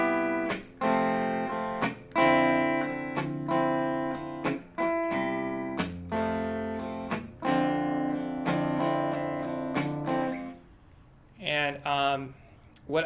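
Guitar strummed with a palm slap and pick attack together, a quick run of sharp percussive chord strokes in a driving rhythm, ending with a brief burst of speech.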